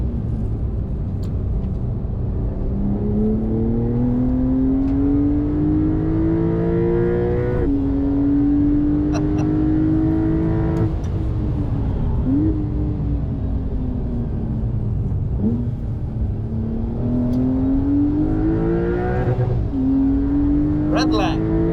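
A Porsche 992 Carrera S flat-six engine spins smoothly up toward the red line, its note climbing steadily through several gear pulls, each ending in a brief dip before it rises again. Someone talks over the engine throughout.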